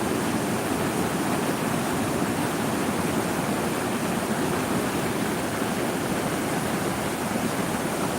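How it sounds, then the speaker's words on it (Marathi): Flood water surging through a residential area and into houses, a dense, steady rushing roar that holds without a break, close and loud. "संपूर्ण जलमय या पाण्याचा प्रवाह संपूर्ण नागरिकांच्या घरात चालला आहे"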